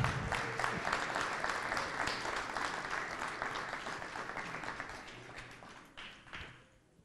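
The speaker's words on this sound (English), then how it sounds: "a big round of applause for Osiris Johnson." Steady applause from an elementary school crowd, many hands clapping continuously, gradually tapering off toward the end.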